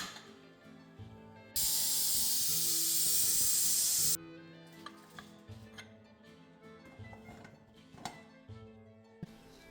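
A loud, steady hiss of steam bursts from a pressure cooker whistle for about three seconds, then stops, leaving soft clicks and kitchen clatter behind.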